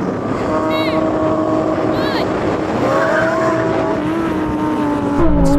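Several high-performance cars, a Lamborghini STO, Ferrari Pista and Porsche GT3, roar in a drag race start, a steady loud engine drone with rising tones from gear changes and wind buffeting, close and continuous.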